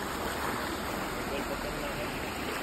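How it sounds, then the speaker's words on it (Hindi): Rainwater rushes steadily through a roadside canal beside a parked vehicle, a continuous broadband wash that holds constant throughout with no talk over it. "बगल में ये कैनल है, नदी है, जा रही है पानी, बारिश का देख सकते हो।"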